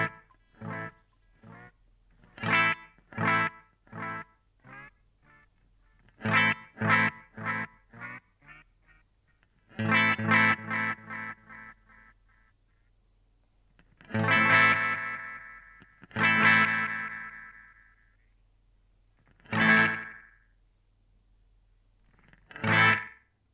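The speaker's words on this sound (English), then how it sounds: "So you can hear as they speed up, you get a bit of slapback going." A guitar through a Boss DM-2W delay pedal plays short plucked notes whose echoes quicken into tight slapback repeats, in bursts separated by brief silences, with no talk.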